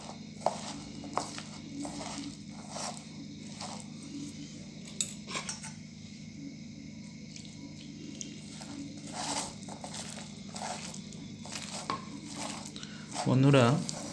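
Onion pakora batter being mixed by hand as water is added, giving soft wet squelching and scattered clinks in a bowl, with a thicker squishing burst near the end; steady low background hum throughout.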